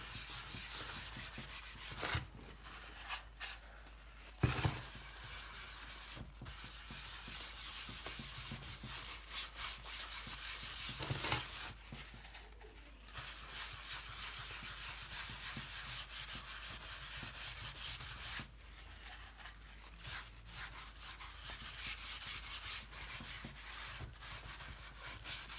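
Grain filler being rubbed by hand into guitar wood in circular motions, a soft, continuous close-up scrubbing rasp with brief pauses and occasional light knocks.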